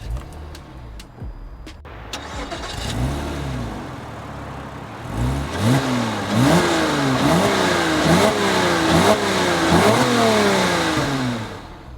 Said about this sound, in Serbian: vreme je da upalim ovaj automobil.